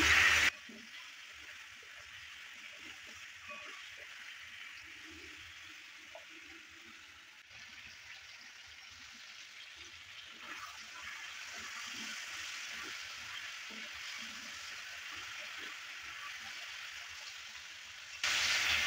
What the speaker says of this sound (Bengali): হলুদ আর লবণটা দেওয়ার পর আবারও ভালো করে নেড়ে নিচ্ছি।